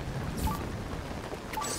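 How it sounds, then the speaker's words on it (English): Thunder follows a lightning strike in the video game Legend of Zelda: Tears of the Kingdom, two soft rumbling cracks over steady rain-like noise, moderately quiet, no voices. "It gets struck by lightning."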